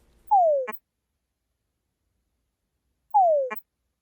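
A recorded male túngara frog call plays from a speaker beside a 3D-printed robotic frog model: two identical descending whines, each ending in a short chuck, separated by about three seconds of silence.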